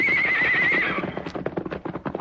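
A powerful white horse in a radio drama sound effect lets out a loud, shrill whinny, followed by a rapid run of hoof clip-clops close by.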